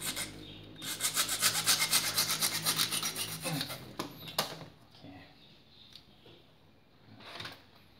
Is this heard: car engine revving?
no